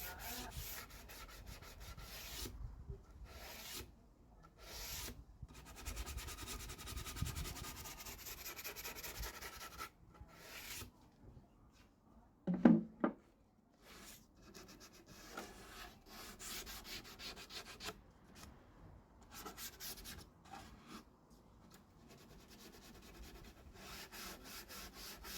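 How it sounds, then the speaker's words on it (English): A plywood lid is rubbed with 120 grit sandpaper by hand, making a steady, close, rasping scratch in continuous back-and-forth strokes, with one brief louder knock midway. "And again, that's 120 grit sandpaper."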